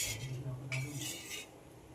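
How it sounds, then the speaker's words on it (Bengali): A spoon stirs lentil dal in a cooking pot, giving a couple of light metallic scrapes and clinks against the pot over a low kitchen hum. "ডালটাকে খুব ভালোভাবে মিশিয়ে নিয়েছি, এবার ফুটতে দেব।"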